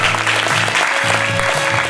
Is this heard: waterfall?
no